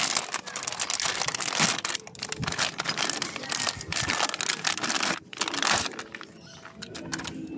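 Plastic packaging around a new original Yamaha rear brake shoe for a YTX125 motorcycle is opened by hand: continuous close crinkling and tearing with brief pauses.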